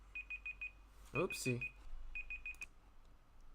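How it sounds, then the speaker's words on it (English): A kitchen cooking timer beeps in quick bursts of four or five high, evenly spaced tones, repeating three times fairly close by, with a person briefly speaking between the bursts. "that was my timer for my cooking"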